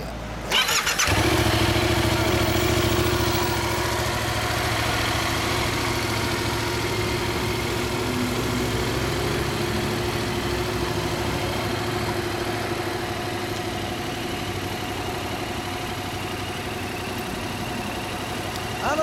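A 2015 Yamaha MT-07 ABS motorcycle idles nearby with a steady, even engine hum that follows a brief start-up burst at the beginning, with no talk over it.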